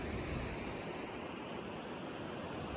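Steady roar of a waterfall and flowing water close by, near a mountain house with vegetable beds in Uttarakhand; a broad, continuous rushing wash with no voices.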